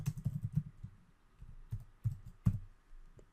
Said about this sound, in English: we'll type in serial.println, and let's say hello world